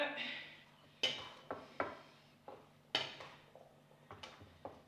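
A utensil mixes salad dressing in a bowl with quick, irregular clinks and taps, close and fairly light, ringing briefly after each strike.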